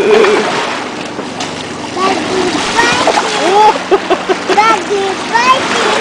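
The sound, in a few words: lake waves splashing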